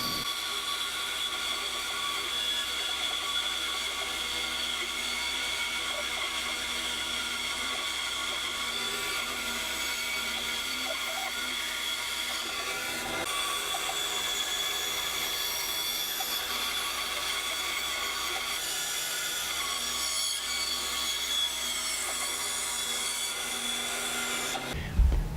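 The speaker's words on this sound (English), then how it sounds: "I'll just use the bandsaw to remove the rest of this material." A bandsaw cuts through material for a guitar neck rest, a continuous high whining drone with a steady hum beneath that shifts briefly near the middle as the cut changes, heard close and alone without speech.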